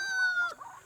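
A laying hen on a farm flock of about 200 birds gives one short, close cluck, brief and fairly clear against quiet surroundings.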